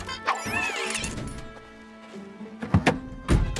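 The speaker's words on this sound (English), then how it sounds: "That sound means Tilly's starter motor has broken" Cartoon truck starter motor breaking sound effect: a clunky sequence of thunks, a brief squeaky sproing, then a pause before a few sharp knocking clanks, close and fairly loud, no talking.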